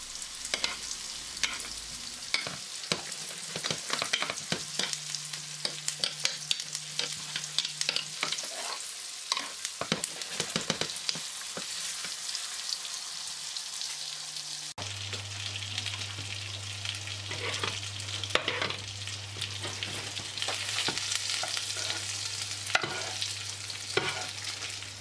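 Beef tenderloin sizzles in hot oil in a pan as it is basted and turned, a continuous crackling fry with scraping and clattering of the utensil, a steady hum underneath, no talking.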